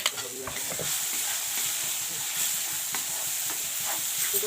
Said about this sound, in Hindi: 1 चम्मच घी में इसको भून रही है अभी